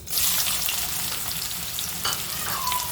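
Green chillies fry in two spoons of hot oil in a pan for an okra dish, giving a loud, continuous close sizzle with a brief scrape of stirring near the end.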